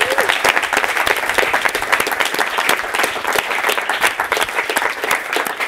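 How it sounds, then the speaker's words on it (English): Audience applause at a music business talk in London, dense rapid clapping from a crowd that stays loud and steady throughout, with no talking over it. "we should give this man a round of applause for what he's saying"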